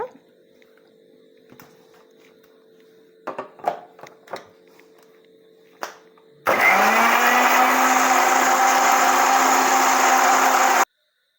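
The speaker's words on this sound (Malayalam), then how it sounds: "ഇത് നമുക്ക് മിക്സിയുടെ ജാറിലേക്ക് ഇടാം" A few soft clicks and knocks, then a mixer grinder blending beetroot with water starts abruptly and whirs loudly and steadily for several seconds before cutting off.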